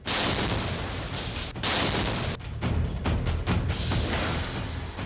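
Loud, dense blast from an explosive rigged to a flag pole on the Israel–Palestine border, heavy continuous roaring bursts filling the clip with brief dips and repeated booming impacts.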